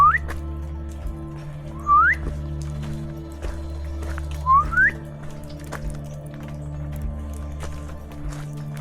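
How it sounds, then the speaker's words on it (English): Two short rising human whistles, a few seconds apart, over a steady low hum and scattered light clicks, on a Florida hiking trail. "I tried whistling just to make sure they knew that I was there"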